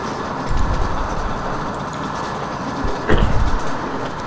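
A locomotive in the Open Rails train simulator game rumbles along steadily while braking, a dense continuous rail roar with a couple of brief clunks and bursts, no talking.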